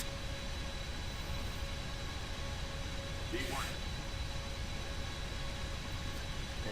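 A Boeing 777F freighter in X-Plane 11 accelerates down the runway on its takeoff roll at Dublin. A continuous broadband engine roar runs with a faint steady whine, and a brief rising chirp cuts through midway.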